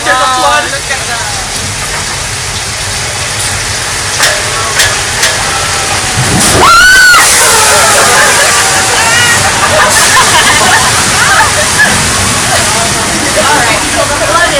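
Thousands of gallons of recycled water released from large tanks on a hill rush down as a theme-park flood effect, a loud continuous roaring wash with a sharper surge partway through, heard up close.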